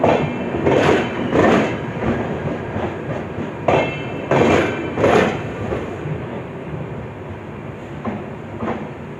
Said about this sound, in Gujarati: તો આપણી બાંદ્રા ભાવનગર એક્સપ્રેસે ડિપાર્ટ કરી દીધો છે